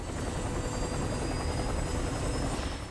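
A helicopter in the video game Disaster: Day of Crisis roars with a steady, dense rotor thrum and engine drone, loud and continuous with no voices over it.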